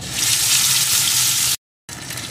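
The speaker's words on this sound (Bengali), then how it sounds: "এখন ফোড়নগুলো লাল লাল করে ভেজে নেব" Whole spices tempering in hot oil for a vegetarian soybean and lentil dhoka dalna, a steady close frying hiss that breaks off briefly near the end and then resumes.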